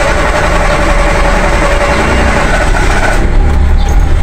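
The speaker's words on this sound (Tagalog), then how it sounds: "Yan, taas baba yung RPM." Kia Pride car engine idling roughly with unstable RPM and a hard-start fault, a loud, steady low rumble close up that shifts slightly in pitch toward the end.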